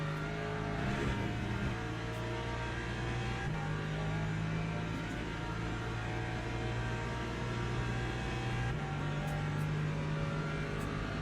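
A race car engine holds a steady high drone with its pitch stepping up through the gears in the Le Mans Ultimate racing game, loud and continuous with no speech.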